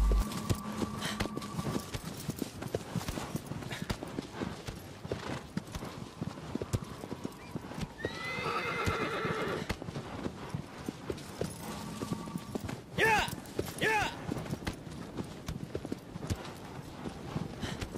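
Galloping horse in the game Shadow of the Colossus, steady clip-clop hoofbeats running throughout with a loud whinny partway and another call near the end, no talking.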